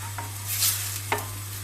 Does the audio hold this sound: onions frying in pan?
yes